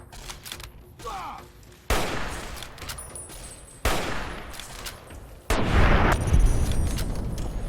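Bursts of gunfire in a post-apocalyptic shooter game as the player fires at an enemy stuck on the scenery, loud close shots in a few separated volleys, with some talk in between.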